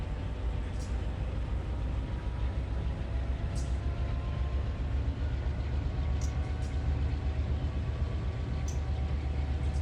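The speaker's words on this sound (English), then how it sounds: "some kind of tank train goes down to West Colton" A Union Pacific tank train rolls steadily past on the Needles Subdivision, a continuous deep rumble with grinding wheel and rail noise. Faint periodic squeals and clicks recur over the close, unbroken roar, with no talk.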